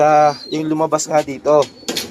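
Pigeons coo close by in a quick series of throaty, rolling calls of varying length, loud and near, with short pauses between them.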